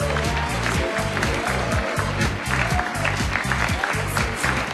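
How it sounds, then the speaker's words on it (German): Audience applause rolls steadily under a loud, rhythmic music track with a pounding beat, the clapping blending into the mix as a constant wash. "Das ist dein Applaus."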